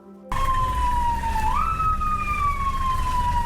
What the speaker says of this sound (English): cars like cops and ambulances, use their emergency sirens when they want to clear traffic